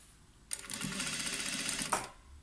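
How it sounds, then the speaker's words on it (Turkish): A straight-stitch sewing machine runs in one steady burst of about one and a half seconds, stitching elastic onto the waist of a skirt, with a rapid whirring needle rhythm close by and a click as it stops. "Lastiğimi düz makinede dikiyorum."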